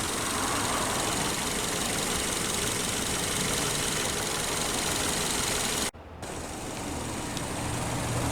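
A 2014 Subaru Forester 2.5i Touring's 2.5-liter dual overhead cam Boxer engine idles with a steady, even rumble, interrupted by a brief cut midway before the idle continues.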